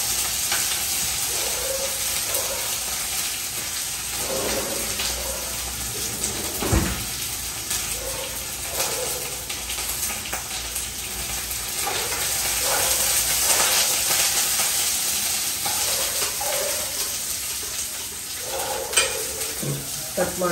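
Chopped green chilies and tempering greens sizzle steadily in hot oil for a breakfast or lunch-box dish, with spoon stirring and occasional pan clinks running through the continuous frying hiss.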